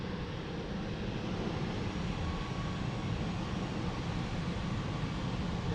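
A Boeing 737 jet begins its takeoff roll at Lisbon Airport, a steady broadband engine roar that holds level and loud throughout with no talk over it.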